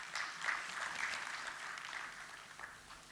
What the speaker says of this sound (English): can we start our day with a huge round of applause?